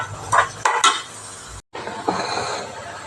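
Sliced onions fry in coconut oil as a spoon stirs them in a pan, giving loud close scraping clinks and a steady sizzle, broken by a brief silent gap.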